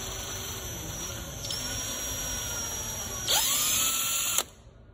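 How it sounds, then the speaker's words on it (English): A power drill with a 13/64 bit whines steadily at high pitch, bogging and squealing briefly as it bites into plastic, then cuts off abruptly near the end. "we're going to take our 13/64 and we're going to drill out"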